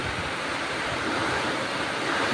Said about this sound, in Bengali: এই দেখো বৃষ্টি ঝোড়ো হাওয়া আছে